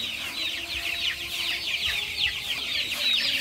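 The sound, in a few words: flock of chickens clucking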